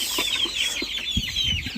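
Brahma and Silkie chickens clucking nearby in short, repeated, busy calls over a brief stretch, with some rustling and no talking.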